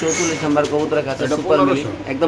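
Racer pigeons coo in soft, repeated low burbles over the whole stretch, blending with someone talking close by.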